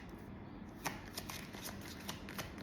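Tarot cards being drawn and handled from a deck give a soft, quiet run of shuffling flicks and light papery riffles, close and steady, with no voice over them.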